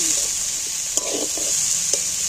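Onion and green chilli sizzle softly in mustard oil while being stirred, a steady close frying hiss broken by a couple of sharp spoon knocks against the pan.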